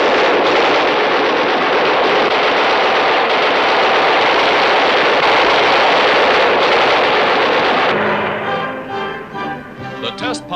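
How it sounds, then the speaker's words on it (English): Aircraft wing guns are test-fired on the ground in a loud, sustained roar of rapid fire lasting about eight seconds before cutting off, leaving quieter rattling sounds. "Guns are tested on the ground."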